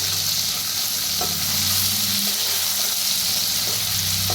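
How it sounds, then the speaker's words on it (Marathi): Chilli and garlic tempering for dal fries in a hot pan, a loud, steady sizzle that runs without a break, with a few soft stirring scrapes. "डाळीचा तडका मी देणार आहे आता छान भाजून घेऊया"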